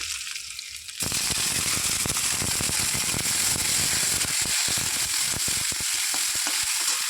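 Shrimp hit hot oil with green chilies in a home kitchen, bursting into a loud, dense crackling sizzle that starts suddenly and keeps spitting and popping close by without pause.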